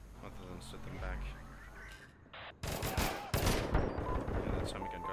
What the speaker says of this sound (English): Yeah, that Tommy gun got me.